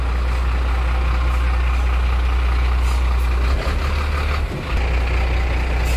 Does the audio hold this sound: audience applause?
no